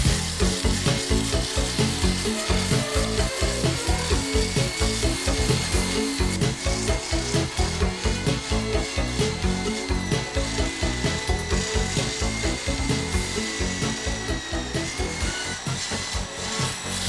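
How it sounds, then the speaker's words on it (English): Power tool grinding paint off a car body panel around a minor dent, a loud continuous abrasive rasp with rhythmic pulsing as the disc works across the metal, alone and close. "The paint can now be ground away."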